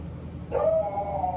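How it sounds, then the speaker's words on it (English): At a park, a dog gives a single drawn-out, whining bark nearby that starts suddenly and holds its pitch for about a second over a faint background hum. "just like my dog is barking right now."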